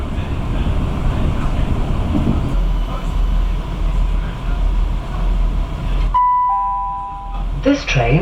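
A Chiltern Railways train to Stratford-upon-Avon rumbles along the rails with a steady, roaring noise, then cuts out, leaving a brief electronic chime and faint voices.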